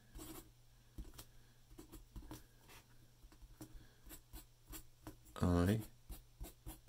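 A Muji fountain pen nib scratches across paper in short, close, quiet strokes, with one brief louder rustle near the end.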